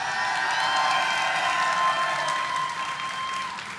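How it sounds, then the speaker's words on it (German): Gamescom crowd applauding and cheering, a dense, loud wash of clapping with whoops that holds steady for a few seconds before easing slightly. "Gamescom-Publikum, es explodiert vor Begeisterung."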